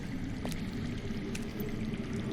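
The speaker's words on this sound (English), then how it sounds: "I hear water. From underground." Steady low rushing of water running underground in a video game, a continuous faint trickling murmur with no voices over it.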